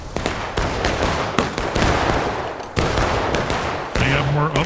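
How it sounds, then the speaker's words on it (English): Rifle gunfire in a battlefield video game cracks out in rapid, repeated bursts of loud shots, dense and overlapping with short gaps, and a faint tonal game sound appears near the end. "Rifles on our left, rifles on our right."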